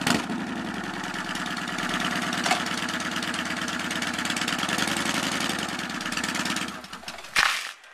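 Yamaha Warrior 1700cc motorcycle engine running close up, a loud steady rumble that rises slightly as it is throttled, then drops away near the end.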